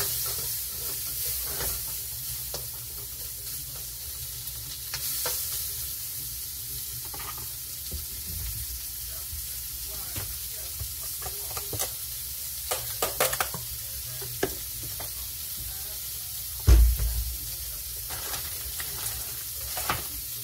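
Shrimp and vegetable dumplings sizzling in a stir fry pan, a continuous soft frying hiss with occasional spits and clinks from stirring, one louder thump near the end.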